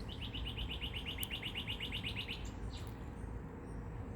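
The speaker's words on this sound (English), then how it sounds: "Even the birds that sing." Birds sing in a quick series of bright, evenly spaced chirps for about two seconds, then fall to fainter calls over a steady low background rumble, with no talking.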